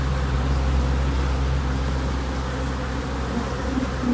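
Honeybees swarm around an open hive during a beekeeping visit to join two colonies, making a dense, continuous, close buzz that holds steady and loud throughout.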